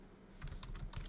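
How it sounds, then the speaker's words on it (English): Typing on a computer keyboard, a quiet run of light key clicks in an uneven patter, close but faint against a soft background hiss. "Just typing it."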